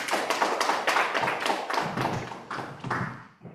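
A crowd at a Black History Month cultural celebration applauds steadily, dense overlapping hand claps filling the room for a few seconds before tapering off.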